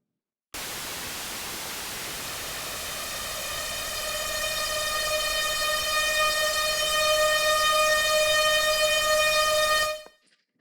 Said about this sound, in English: Noise turned into a toned sound.